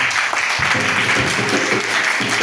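A church congregation claps and cheers in acclaim of Jesus during a French-language worship service, a dense, steady wash of applause with a few sharper low thumps throughout.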